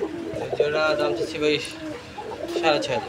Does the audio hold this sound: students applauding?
no